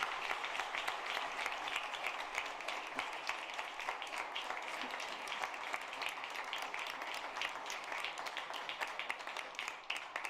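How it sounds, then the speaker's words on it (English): Steady applause from an audience at a book launch in Dar es Salaam fills the room at an even level for the whole stretch, dense clapping with no voices standing out. "Okay, a round of applause."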